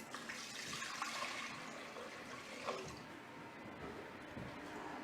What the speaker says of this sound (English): I'm going to put some cold water again.